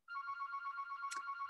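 A mobile phone rings with a steady electronic tone, loud and continuous, sounding alone without any talk over it.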